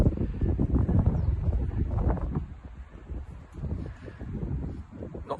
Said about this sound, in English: Great weather, windy, but that's a bit of a blessing today